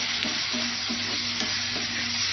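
Chicken masala with chili powder and turmeric sautéing in oil in a pan, a steady broadband sizzle with a few soft rhythmic stirring scrapes, close and fairly loud, no talking.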